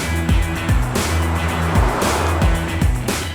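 A 2019 BMW X5 30d with its diesel engine pulling hard on the road, a loud droning note that rises and falls in repeated surges as the gears change, close up with no talk.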